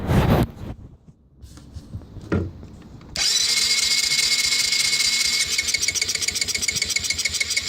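A 1985 Yamaha Moto 4 80cc ATV engine, its carburetor recently cleaned, catches after a few faint cranking attempts and settles into a loud, steady, buzzing run close by.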